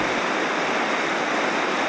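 Rushing water of the Upper Styx river, a steady, dense broadband roar that sounds close and continuous, with no voices or other sounds over it.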